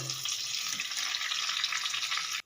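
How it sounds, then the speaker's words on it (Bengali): Potato and brinjal pieces fry in hot oil, giving a steady, soft bright sizzle that holds evenly throughout with no talking. "এখানে আমার আলু বেগুনটা ভাজা হয়ে গেছে"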